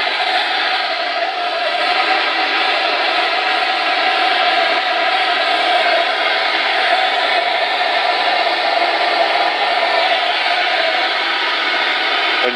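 A heat gun blows hot air onto the barrel of an Air Arms TX200 air rifle, a steady, close, constant whooshing roar that holds level throughout with no talk over it.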